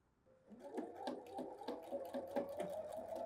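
A sewing machine backstitching at a short stitch length across the bottom of a bodice, its rapid stitching broken by several quick back-and-forth reversals, close and steady with no talk.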